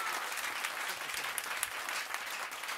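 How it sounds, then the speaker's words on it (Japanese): A festival audience gives sustained, dense applause at the close of a two-day winter music event, steady and fairly distant with no talk over it. "最後、ね、鳥を飾ってくれました2組にもう一度大きな拍手お願いいたします。"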